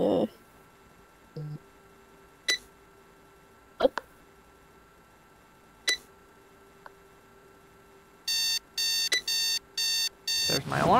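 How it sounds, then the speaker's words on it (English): An in-game alarm clock rings near the end, a series of rapid bright electronic beep bursts in quick pulses, following scattered clicks and knocks in a quiet game scene. "There's my alarm clock."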